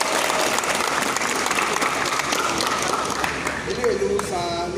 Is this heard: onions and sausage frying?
no